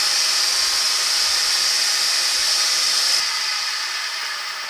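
A wood lathe spins an oiled beginner's bowl at higher speed, giving a loud, steady whirring hiss that holds evenly and then eases slightly toward the end.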